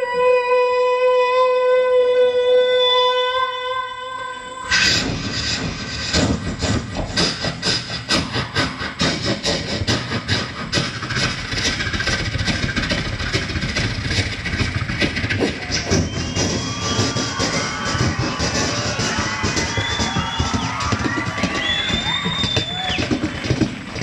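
Voice imitating a train running along the rails and crossing a railway bridge, performed at an Onam celebration; after a brief musical tone intro, a long rhythmic run of chugging, hissing and thumping vocal sounds continues steadily for about twenty seconds.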